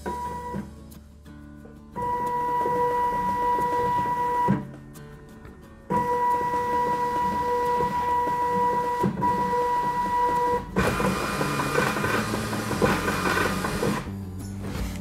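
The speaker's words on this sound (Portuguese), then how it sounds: "Ele começou a imprimir, eu já posso soltar o botão cancel." Zebra ZT411 industrial label printer running off a configuration report: steady mechanical whirring and feeding in several long bursts with short pauses between, close and loud, without talk.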